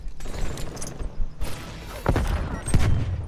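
Shotgun blasts in a video game, several sharp heavy booms spread irregularly across the moment, with thuds and clatter in between.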